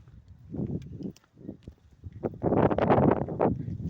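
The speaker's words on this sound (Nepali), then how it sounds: "चिसो चिसो हावा चल्यो।" Cold wind gusts at a hilltop view tower in Syangja, buffeting the microphone in uneven rumbling bursts that swell louder and rougher toward the end.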